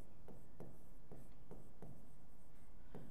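Marker or chalk writing on a classroom board, a series of short scratchy strokes repeating about every half second, fairly faint with no talk over it.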